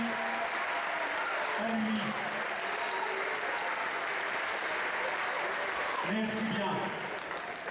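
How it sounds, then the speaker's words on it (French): An audience at a club fencing event gives a soft, sustained round of applause in a hall, steady clapping under brief spoken words at the start and end. "Un petit applaudissement pour lui, s'il vous plaît."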